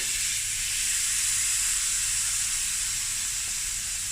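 Cold cooked basmati rice tipped into a pan of sizzling burnt butter gives a steady, loud frying hiss that stays even throughout with no talking.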